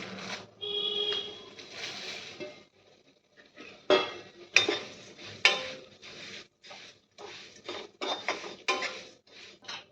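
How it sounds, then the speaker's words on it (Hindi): Metallic scraping and clinking of a spatula stirring dry poha flakes roasting in a pan, in irregular bursts with short pauses, close and moderately loud. "अब ये पोहा डाल के पोहा भी भून लेंगे।"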